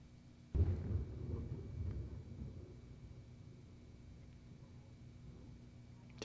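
A single heavy thunderclap from a thunderstorm hits suddenly, then rolls into a long, low rumble that slowly fades into faint background hiss.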